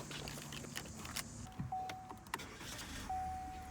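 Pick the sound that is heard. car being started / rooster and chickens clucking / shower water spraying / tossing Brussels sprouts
car being started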